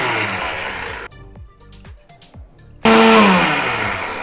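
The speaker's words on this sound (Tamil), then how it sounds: "ஜாரில் வந்து கொஞ்சம் தேங்காய் அரைச்சி எடுத்துக்க போகிறோம்" A kitchen mixer grinder whirring loudly as it grinds coconut in its jar for a village-style country chicken curry, running in two bursts with a short pause of clicks and knocks between them, close and dominant.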